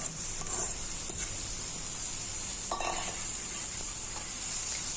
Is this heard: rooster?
no